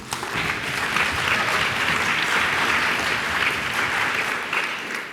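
A conference hall audience at a PyCon UK 2019 lightning talk session applauds, a loud, even wash of clapping from a large crowd that holds steady throughout and eases off slightly at the close.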